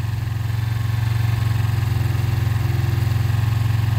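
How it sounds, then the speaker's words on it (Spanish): A motorcycle engine runs steadily with a low, pulsing throttle held just above idle as a learner rider eases off the clutch, a close, loud, even throb with no talk. "lo voy a ir acelerando un poquito, tal 4 o 5, y iba a caminar la moto"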